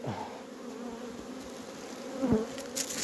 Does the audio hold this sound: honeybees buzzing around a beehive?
yes